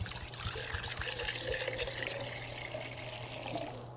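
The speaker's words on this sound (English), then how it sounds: "Fill each jar half the way full with water." Water runs into a clear jar being half filled, a soft continuous trickle and splash with a faint low hum beneath, steady throughout.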